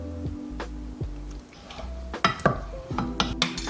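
A utensil stirs a coconut milk mixture in a pan over medium heat, making soft scraping and clinking against the metal with a faint sizzle, in short, irregular strokes close by.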